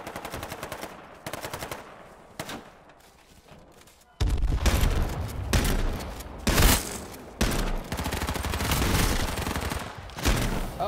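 Repeated shotgun blasts in the battle royale game H1Z1, loud bursts of rapid gunfire with a quieter stretch early on, then dense, close shooting through the rest.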